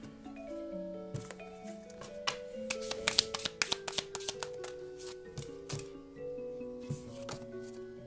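Tarot cards shuffled, snapped and drawn close by in a flurry of crisp riffles and flicks, over soft background music.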